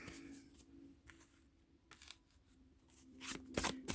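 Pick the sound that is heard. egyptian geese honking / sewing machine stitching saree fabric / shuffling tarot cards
shuffling tarot cards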